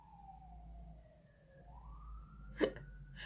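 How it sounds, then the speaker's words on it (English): A siren wails faintly past a house in Chicago, its tone sliding down and then rising again against low traffic rumble, with a brief soft bump near the end. "when you hear the sirens going past my house"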